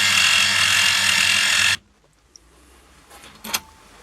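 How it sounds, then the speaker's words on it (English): Machining drill running through metal with a 5mm bit for a trigger guard part, a loud steady whine for under two seconds that cuts off abruptly, followed by near silence with a couple of faint clicks. "Go all the way through with the 5mm drill."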